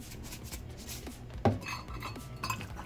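A seasoned mixture of pepper and salt stirred in a bowl for breading, with repeated clinks and scrapes of a utensil against the dish and one sharper knock partway through, close and moderately loud.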